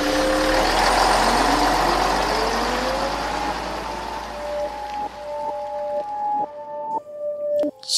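A bus drives along with a loud engine rumble that gradually fades. Several short beeps and clicks, and a sharp burst near the end, break into the quieter tail.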